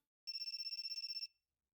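A work phone in a video game rings with a rapid electronic warble, one burst of about a second, clean and alone before cutting off.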